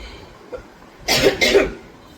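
A person coughs twice in quick succession, close and fairly loud, in an otherwise quiet room with only faint background hiss before and after.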